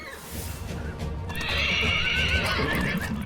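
Agitated horses at a stable give a loud, drawn-out whinny over the continuous shuffle and clip-clop of hooves, with a busy, close-sounding background.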